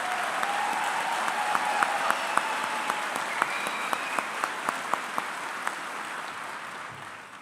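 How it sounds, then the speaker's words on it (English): Audience at a Basic Academy Class 218 graduation giving a sustained round of applause: steady, even clapping from a large crowd, fairly loud and continuous with scattered sharp claps. "Let's give Class 218 one more round of applause for their generosity and willingness to give back to the community."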